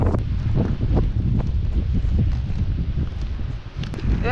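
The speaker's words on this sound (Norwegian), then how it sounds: "Det blåser litt igjen." Storm wind buffets the microphone in a continuous low roar, gusty and close, with faint rustling and occasional thumps underneath, in Hardangervidda National Park at night.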